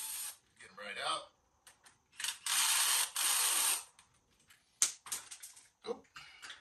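A ratchet works 10 millimeter bolts loose during assembly of a Tao Motor DB 20 dirt bike, with bursts of rapid clicking ratcheting alternating with pauses and a few clanks, and faint talk in places.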